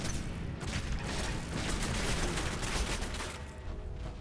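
Turret in the Magnum Opus game firing at enemies: a dense, continuous burst of rapid gunfire running unbroken and loud from start to finish, with no talk over it.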